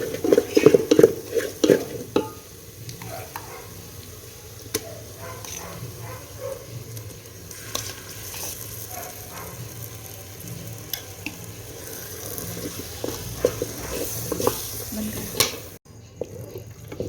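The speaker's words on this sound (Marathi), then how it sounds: "कोरडा मसाला टाकला ना, पटकन हलवून घ्यायचं आणि डाळ पण टाकून घ्यायची" A dry spice masala and dal being stirred in a sizzling pan over a wood-fired clay stove for a bazaar-style amti, with steady frying sizzle and scraping strokes close by, and brief faint voice traces in the background.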